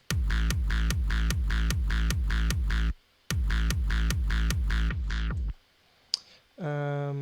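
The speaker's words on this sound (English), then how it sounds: "a reverse bass, which I pitched to the root notes" Hardstyle reverse bass pitched to A, produced in FL Studio: a loud run of rapid, punchy pitched bass hits in tight repeating rhythm, a short gap, another run, then a held tone with sustained harmonics.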